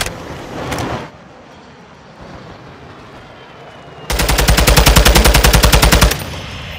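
A VTOL warjet in Call of Duty Modern Warfare II fires a loud, rapid, evenly pulsed burst lasting about two seconds, following a short earlier blast and a stretch of quieter ambient noise.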